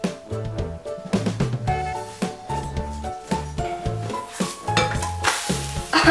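Nut pancake batter frying in a greased pan: continuous close sizzling with repeated scraping and clinking of a utensil against the pan, fairly loud and steady, with no talk.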